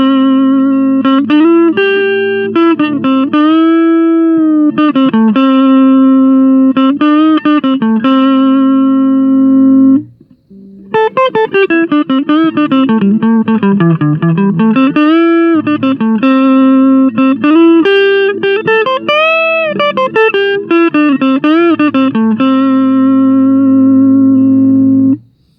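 Clean electric guitar played through a Roland Micro Cube amp on its JC Clean model, loud and close, with sustained chords and bent notes ringing alone for about twenty-five seconds, broken by one brief pause.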